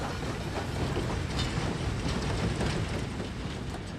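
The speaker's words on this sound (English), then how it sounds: "Marshal Foch's special train enters the station of Compiègne" Marshal Foch's special train enters Compiègne station north of Paris in November 1918, a continuous rumbling roll of wheels and carriages at moderate distance, fairly faint with hiss throughout, no voices.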